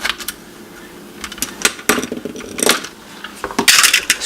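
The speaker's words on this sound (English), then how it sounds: "Screws go in the cups." Small screws from an M&S DMC display screen repair are dropped into cups, giving several sharp metallic clicks and rattles at close range.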